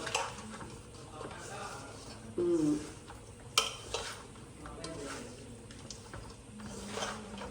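Salt is stirred into a pot of Telugu fish curry (chepala pulusu), making scraping, clinking stirs over a low simmer, with people talking nearby.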